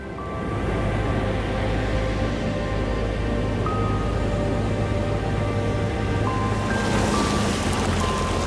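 Ocean waves wash onto the black sand and ice of Diamond Beach, Iceland, a loud continuous roar of surf that swells slightly toward the end, with wind buffeting the microphone.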